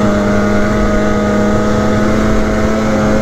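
A Polaris Matryx Assault 146 snowmobile pushes through snow drifts with a loud, close engine roar and a steady droning pitch, with no break in the sound.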